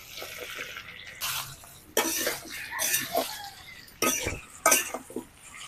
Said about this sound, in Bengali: কাঁকরোলগুলোকে আমি লাল লাল করে ভেজে নেব।